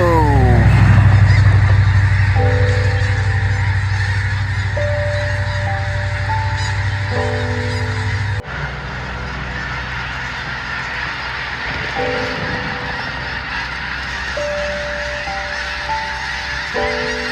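A flock of migrating geese or ducks honks steadily overhead above a farmer's field at sunset, many loud overlapping calls in an irregular chorus against constant low rumble and wind.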